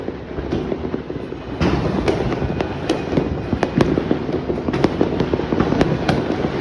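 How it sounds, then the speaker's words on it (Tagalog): New Year fireworks burst nonstop nearby, a dense run of sharp cracks and pops over a constant crackling rumble, loud and layered throughout. "Grabe, walang katapos ng fireworks."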